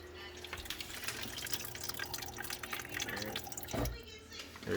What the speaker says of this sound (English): you have to press set in order to activate water valve